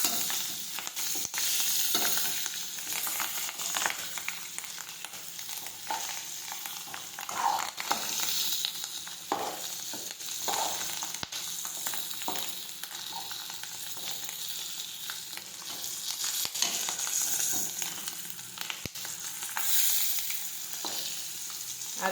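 Steady crackling sizzle of stuffed green chillies frying in oil with mustard seeds and cumin, with occasional pops and stirring scrapes, close and continuous.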